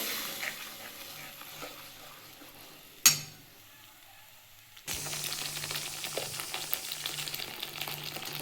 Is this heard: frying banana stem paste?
yes